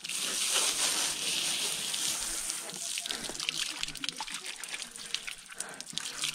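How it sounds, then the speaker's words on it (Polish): Water streams and splashes while foam is rinsed off a horse, a steady running flow that thins into drips and trickles as someone talks over it. "Trzeba po prostu całą pianę spłukać, żeby się koń nie pienił."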